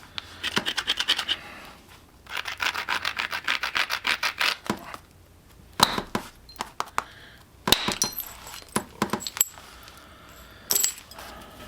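Sharp stone-on-stone strikes knock flakes from a chert hand axe during flint knapping, coming as quick clustered bursts of crisp clicks and scrapes, close and fairly loud, separated by short pauses with isolated sharper cracks.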